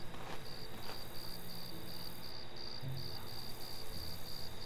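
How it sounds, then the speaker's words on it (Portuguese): Crickets chirping at night in the farming video game Farmer's Dynasty, a steady pulsing trill repeating rhythmically throughout, continuous and moderately faint, with no talk. "Ouvindo o cantar dos grilos."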